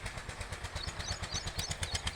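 A farm tractor in a village rumbles steadily as it pulls away carrying goods, its engine chugging with a rhythmic low pulse and clattering mid-range noise, fairly close and continuous with no talking.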